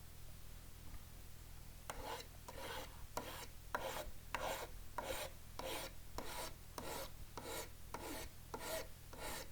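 Metal divider points are filed and shaped with rhythmic rasping strokes, about a dozen evenly spaced passes following a faint pause, close and crisp over a low background hum.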